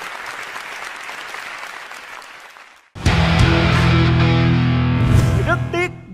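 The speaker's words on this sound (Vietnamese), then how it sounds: "Một tràng vỗ tay gửi lời chào đến gia đình dễ thương ạ" Studio audience applause on a Vietnamese TV family game show, first a steady wash of clapping, then a louder, denser burst of applause with show music underneath, ending with a brief dip.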